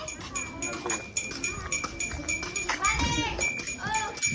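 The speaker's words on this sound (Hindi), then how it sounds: "ये दूध वाली बकरियाँ," Dairy goats bleat at a crowded Sindh livestock market, several wavering calls rising over a constant din of nearby talk and bustle.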